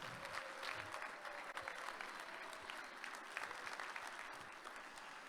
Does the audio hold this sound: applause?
yes